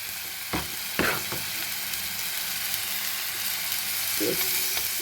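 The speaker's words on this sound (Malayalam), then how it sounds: "ഇനി ഇത് നല്ലപോലെ ഒന്ന് ഫ്രൈ ചെയ്തിട്ട് നല്ലപോലെ ഒന്ന് ഇളക്കി കൊടുക്കുക" Chicken pieces for homemade shawarma fry in a pan with a bright, continuous sizzle, interrupted by a few sharp stirring clacks near the beginning and end.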